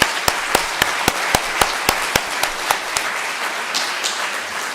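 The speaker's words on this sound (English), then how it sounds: "let's clap." Small meeting audience clapping at an international fisheries working group session, a thin patter of separate sharp claps in a steady, evenly spaced rhythm, fairly close, with no talk over it.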